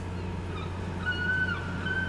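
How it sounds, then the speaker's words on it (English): Birds chirp in an animated scene set by the ocean, thin high calls drawn out over a steady low hum. "Birds are chirping."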